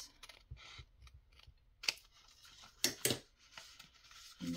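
Paper being trimmed for an ephemera craft: a few sharp, close snips and rustles separated by quiet gaps.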